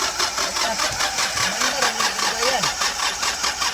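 A Hyundai Porter II with a D4CB diesel engine that is hard to start, with a faulty number 1 injector, cranks with a steady rhythmic pulsing throughout, loud and close, with no talking.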